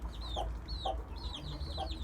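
A broody hen clucks softly in a coop, giving a few low repeated clucks close by, with higher bird chirps scattered through and a faint low background hum.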